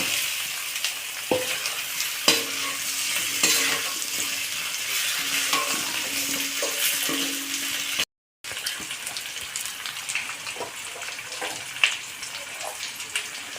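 Potato pieces frying and being stirred in a pan for a Bengali mustard fish curry, a steady close sizzle with scraping stir sounds and a brief break partway through.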